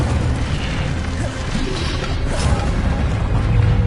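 The Incendio fire spell is cast in Hogwarts Legacy: a loud, continuous fiery burst with a deep, rumbling roar and crackling texture that carries on throughout.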